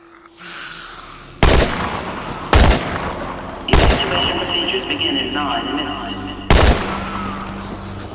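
Four loud, sharp gunshots from the zombie survival video game The Walking Dead: Survival Instinct, spaced irregularly over steady game ambience, with someone talking.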